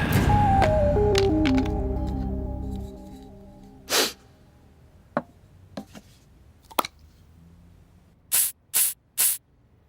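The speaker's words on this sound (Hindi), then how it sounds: "वो स्प्रे है पापा, स्प्रे। उसको सेंट बोलते हैं" Bursts of perfume spray from a scent bottle hiss in short, separate puffs, with a few quick sprays bunched together near the end, following a louder stretch of mixed noise and musical tones at the start.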